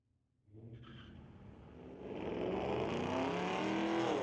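Engines of a Dodge Charger and a Camaro roar off the line in a street-legal drag race at Mission Raceway Park, building from a low rumble to a loud, sustained howl.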